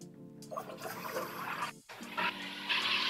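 A hissing rush of pressure released through an exhaust valve on a homemade sparkling water carbonation line, with gurgling water, loud and close, broken by a short pause before the hiss resumes.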